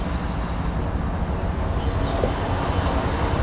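A CSX locomotive, engine 3397, rumbles past near a riverside walking path, a steady low roar with faint rail clatter holding at an even loudness throughout.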